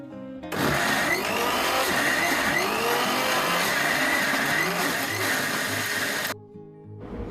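An aging electric wet grinder churning soaked lentils into batter, a loud continuous whirring and grinding for several seconds that starts and stops abruptly.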